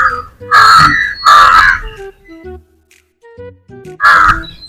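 Several loud, hoarse crow caws ring out close by in separated bursts, with quieter chirps and small sounds in the gaps.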